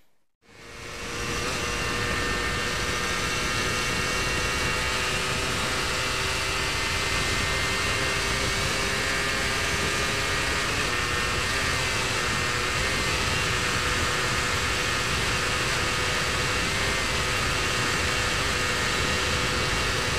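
A Suzuki Satria 120 R motorcycle runs flat out in sixth gear at high rpm, a constant loud roar of engine and wind noise that barely changes, starting after a moment of quiet.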